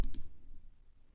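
A single sharp computer mouse click, close and brief, with a faint second tick and a fading low room tone.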